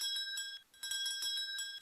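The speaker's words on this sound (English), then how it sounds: "Can you hear the sound of the bell?" A metal bell rings repeatedly under water in a tub, heard with an ear at the water's surface: bright, steady chiming strikes in a quick rhythm with sustained ringing tones, loud and close, with no talking.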